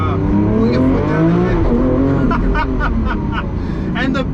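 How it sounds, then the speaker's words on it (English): A Lamborghini Aventador SVJ's engine revs loudly under hard acceleration, a high-pitched rising howl climbing through the gears, with someone talking over it throughout. "engine just screams. It's like a Formula One. It's so high pitched and just sounds magnificent"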